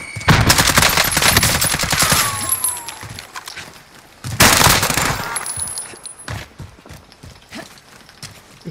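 Rapid automatic gunfire from the Warzone video game, loud and close, in two dense bursts with a quieter tail of scattered shots and movement between them.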